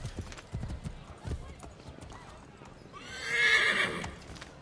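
A horse in Assassin's Creed III rears and neighs: hoof clip-clops come first, then a loud, shrill whinny near the end. Game voices and a commentator talk underneath.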